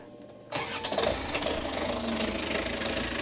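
An engine with a loose starter motor connection cranks and catches abruptly after a short quiet moment, then settles into a steady, loud rumbling idle close by.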